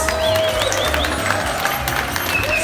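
An audience at the Bali Safari animal show claps in a burst of applause, a crowd clapping together at moderate volume with some voices and high whistling calls mixed in.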